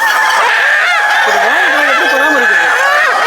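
A rooster on a country-chicken farm crows loudly and close by, a long wavering call over a busy background of other fowl clucking.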